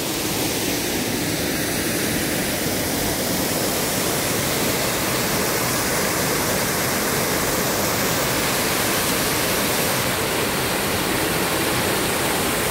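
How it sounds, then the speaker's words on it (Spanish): A double waterfall deep in the Carapé hills of Maldonado, Uruguay, roars as a loud, steady rush of falling water throughout, with no voices. "en lo profundo de las sierras de Carapé, en el departamento de Maldonado, y la llamamos la Cascada Doble"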